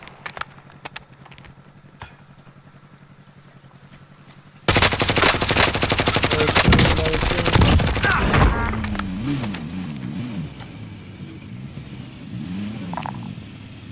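Rapid automatic gunfire in a video game, a long dense loud burst after a quieter opening, with voices talking over and after it.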